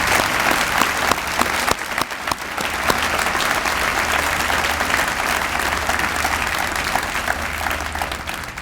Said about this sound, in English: why don't we just clap again just to say thank you for receiving something